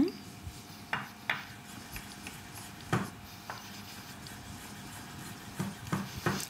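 Knife strokes on a cutting board while fresh mushrooms are recut crosswise, a few sharp scattered taps with quiet pauses between them in a kitchen, under faint background noise.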